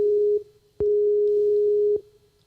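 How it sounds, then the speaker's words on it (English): A telephone ringback tone sounds on an outgoing call to England, a loud steady electronic tone that plays, pauses briefly, then resumes in a longer burst. "It is ringing."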